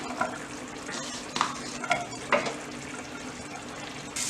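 Onion and capsicum stirred in about 20 grams of butter in a pan for a potato gravy, a soft continuous sizzle broken by a few light scraping stirs and clinks, close and moderately quiet with no talking.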